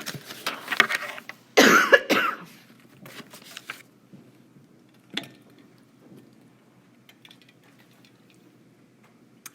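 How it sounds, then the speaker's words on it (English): A person coughs from a tickle in the throat, one strong close cough followed by a few smaller throat sounds and faint clicks in an otherwise quiet room. "I'm sorry if I keep coughing."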